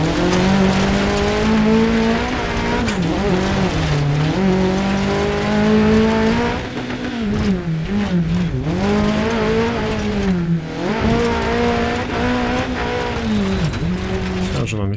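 A rally car in Dirt Rally 2.0 is pushed flat out, its engine screaming loud and close as the revs climb and drop repeatedly through quick gear changes.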